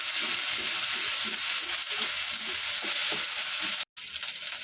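Onions and ground spice paste fry in a pan with a steady, loud sizzle and crackle, stirred at intervals, with a brief drop to silence near the end and no voices.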